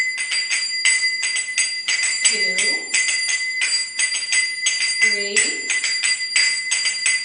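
Finger cymbals (zills) for belly dance ring in a steady rapid pattern of bright metallic clicks and rings, close and loud, while a voice counts along over them.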